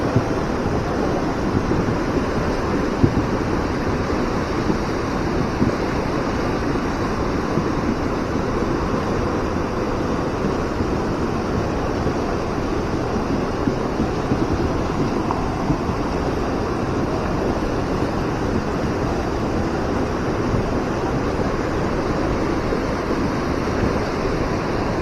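Fast-flowing, flooded yellow river water of the Lubuk Minturun river in Padang after a night of heavy rain, a continuous loud broadband rush with wind buffeting the microphone, no voices.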